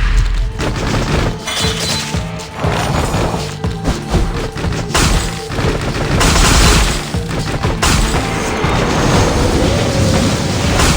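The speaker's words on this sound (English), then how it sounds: "Gunfire!" Dense video game gunfire, continuous rapid shots and crackling blasts with booming impacts, loud and close throughout.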